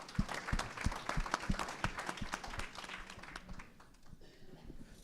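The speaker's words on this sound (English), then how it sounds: "Another round of applause, please." An audience at a mayoral candidate forum in Frisco claps for the candidates, dense applause from a room of people that holds steady and then gradually thins and fades out.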